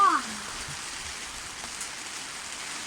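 Steady rain falling outdoors on a Saturday, a soft even hiss of drops on surfaces that continues evenly throughout, with a brief faint voice-like sound at the very start.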